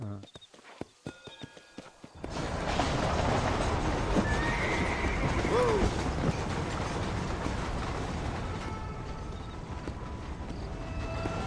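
In the video game Red Dead Redemption, a horse gives a drawn-out whinny over a steady wash of clip-clopping hooves and outdoor game ambience.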